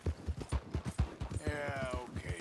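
Horse hooves clip-clop at a brisk, even trot in the video game Red Dead Redemption 2, close and distinct, with a faint snort toward the end.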